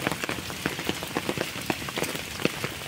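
Rain falls on a hiking trail at Tai Tam Reservoir in Hong Kong, a steady patter with scattered louder drops hitting nearby surfaces.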